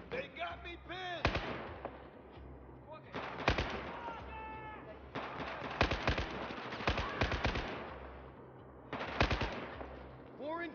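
Bursts of automatic gunfire and single shots from the video game Battlefield 4, crackling in rapid clusters separated by brief lulls, loud and close, with background battle noise and occasional shouting voices.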